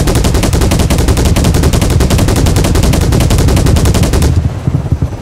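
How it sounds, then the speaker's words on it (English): A heavy vehicle-mounted gun like a BTR's fires a long, loud, rapid burst of evenly spaced shots in a video game, then cuts off abruptly, leaving a short low rumble. "That sounds like a big gun, too, like a BTR or something"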